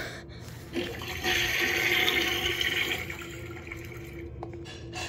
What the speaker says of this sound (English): Musty, that's your crusty toilet.